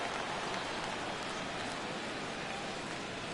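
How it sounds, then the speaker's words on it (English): Steady rain falls during a baseball video game in the sixth inning, an even, continuous hiss of drops with no breaks, fairly soft and heard alone. "Rain continues to fall here in the 6th."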